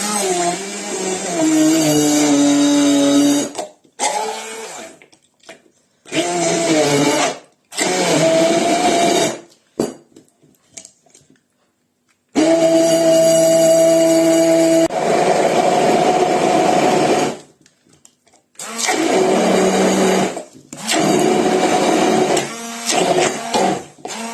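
An electric hand mixer whipping homemade mayonnaise whirs loudly in repeated bursts, stopping and restarting several times with short silences between runs.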